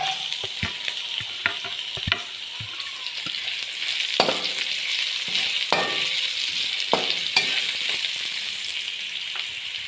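Steady sizzling as carrots fry in a pan with garlic, with occasional scraping stirs and clinks, close and fairly quiet, no talking.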